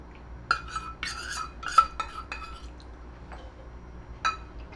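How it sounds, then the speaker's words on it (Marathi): Clinks of a spoon or ladle against a pot while gram flour slurry is poured and stirred into a spinach buttermilk curry, several light metallic taps spaced irregularly, close and fairly quiet. "हे जे आपण बेसनाचं बॅटर तयार केलं आहे किंवा स्लरी तयार केली आहे ती घालतोय"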